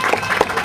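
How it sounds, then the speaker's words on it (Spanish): Applause from a church or gospel gathering on a regional broadcast, a steady burst of crowd clapping that rises and falls over a brief moment, fairly close and clear, with no talk over it. "Dele el aplauso a Dios."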